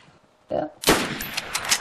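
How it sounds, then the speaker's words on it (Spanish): Gunfire in the video game DayZ, aimed into bushes: a short, sharp shot followed by a louder, longer blast with a ringing tail, both close and punchy. "Estoy disparando los arbustos, a ver si potra, le doy."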